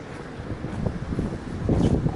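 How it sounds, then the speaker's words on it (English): Strong wind gusting outdoors at a home pigeon loft, buffeting the microphone with a low, rumbling roar that swells and eases and grows louder toward the end, with no speech. "Windy today"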